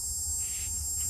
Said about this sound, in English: Are those cicadas?